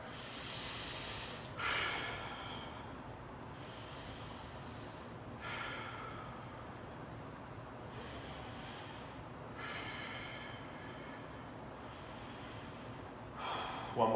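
Slow, audible breathing through a held single-leg bridge during a mobility workout, with several long hissing inhales and exhales repeating every few seconds, close and steady with no talking.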